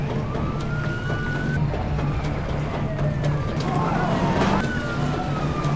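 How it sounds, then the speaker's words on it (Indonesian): A wailing police siren from a speeding car rises and falls over busy market background noise, with a voice talking over it. "Tiba-tiba sebuah mobil ngebut dengan sirine besar datang ke pasar"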